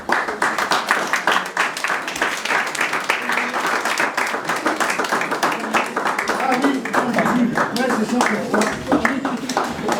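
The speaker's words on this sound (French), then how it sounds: "on peut toujours continuer à applaudir." Wedding guests applaud continuously, a dense, steady wash of clapping hands filling the whole stretch, loud and close, with voices mixed in underneath.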